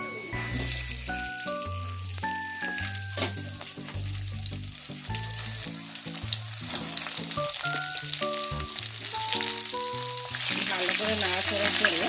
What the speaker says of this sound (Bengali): ভালো করে নাড়াচাড়া করে একটু ভেজে নেব